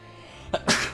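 A single sharp sneeze with a brief sharp intake just before it, close and loud over a faint steady background hum.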